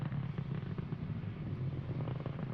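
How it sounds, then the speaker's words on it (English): Rocket booster engines, picked up by the onboard camera on the booster while it is still in the atmosphere, give a steady, muffled low roar with a windy rumble and no voices. "You can actually hear the engines from the camera on the booster while they're still in atmosphere."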